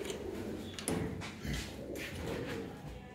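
Pigeons in a loft in Ludhiana coo faintly in low, rolling calls, with light rustling and a few soft knocks around them and no one talking.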